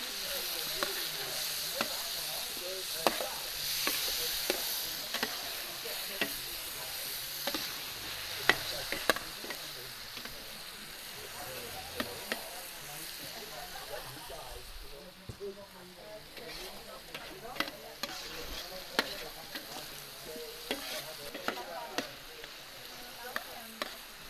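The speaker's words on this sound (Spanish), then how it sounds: "tenemos ya sofrito el tomate" Tomato sautéing in a paella pan for Valencian paella gives a steady sizzle, with scraping stirs and clicks of a utensil against the pan throughout, and a voice speaks over it for much of the time.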